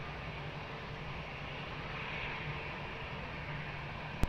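Airliner taking off from runway 20 at Lisbon Airport, heard as a steady, distant jet engine roar with broad noise that swells slightly near the middle, fairly faint overall.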